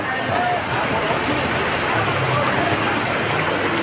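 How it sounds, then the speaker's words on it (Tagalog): Heavy rain pours steadily and loudly on a flooded street during a barangay hall demolition, a dense unbroken wash of hiss throughout. "Grabe lakas ng ulan mga kababayan."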